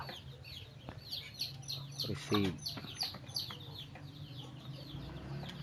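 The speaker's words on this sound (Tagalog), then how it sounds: "maingay yung mga manok ko" Chickens cluck and squawk faintly in the background with chirpy bird calls, a brief louder rooster-like cry midway, and a voice speaking quietly.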